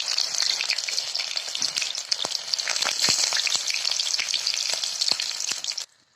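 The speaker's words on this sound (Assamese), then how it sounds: "পিঁয়াজ দি দিছো এতিয়া" Chopped onions sizzle in hot oil in a pan for a kosu (taro) dish, a loud, steady crackling fry with scattered pops and spatters throughout, cutting off abruptly near the end; no voices.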